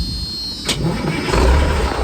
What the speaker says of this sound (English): I'm in, the isolator is off and I'm just going to start up